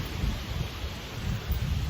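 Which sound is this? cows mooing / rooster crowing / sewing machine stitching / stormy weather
stormy weather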